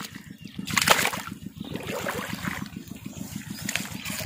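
Water splashes and trickles at a small mud dam in a village field, with a steady rhythmic engine-like pulse underneath and a louder splash burst near the start.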